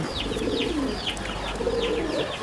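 Pigeons coo on a rooftop loft in two soft, rolling phrases, close and steady, with faint higher chirps above and no talking.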